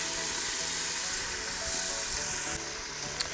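Garlic sautés in an Instant Pot, a steady close sizzle and crackle holding at an even level throughout, with no voices over it.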